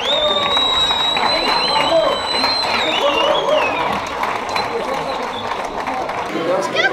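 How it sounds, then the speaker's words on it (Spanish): A crowd at the Garinoain fiesta opening rocket applauds and cheers for Juanjo, with sustained clapping and a few shrill whistles over a busy outdoor murmur. "Un fuerte aplauso para Juanjo."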